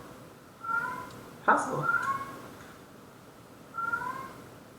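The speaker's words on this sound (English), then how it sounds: "Is the loud cat coming through? Because that's adorable." A cat meows loudly several times in the background while a person speaks briefly over it.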